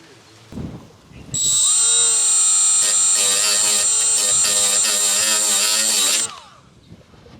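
A power tool whines up and grinds a fiberglass bodykit piece for a Toyota Cressida X8, a loud sustained high-pitched tone with harmonics for about five seconds before winding down, preceded by a short knock.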